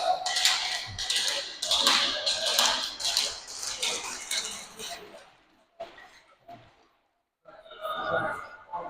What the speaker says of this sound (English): Legendary stick tap.